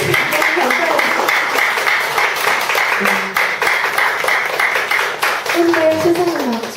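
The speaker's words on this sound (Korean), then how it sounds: "자리 앉으실 때까지 박수를 계속 칩니다" An audience at a lecture and classical concert applauds steadily as performers walk out and take their seats, dense clapping carrying on throughout with a few voices and faint instrument tones mixed in.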